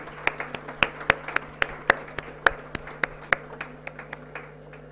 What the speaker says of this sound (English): Please give a big round of applause to our guests.